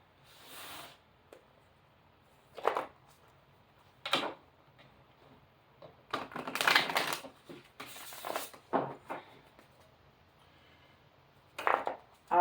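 Melanie Beckler oracle cards being handled and shuffled, soft close riffling and tapping bursts spread unevenly across the span, with a denser flurry in the middle, fairly quiet and without talk.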